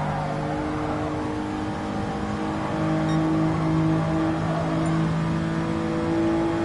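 A JDM car's engine holds a steady, loud drone with sustained tonal harmonics while racing along the Tokyo Expressway in Gran Turismo, swelling slightly partway through, with no voices.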